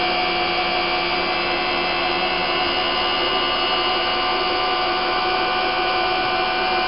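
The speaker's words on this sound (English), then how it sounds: "You may be able to hear a change in tone of the winch." A winch running steadily while its line tension is adjusted, a continuous dense whirring hum held at an even level throughout with no pauses or voices.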